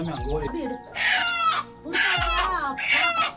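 Backyard chickens, a rooster among the hens, cluck and squawk in loud, close bursts between brief pauses, with people talking over them.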